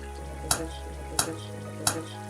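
Lumpia rolls with cheese sizzle steadily in hot oil while three sharp pops burst out at even intervals, close and fairly loud.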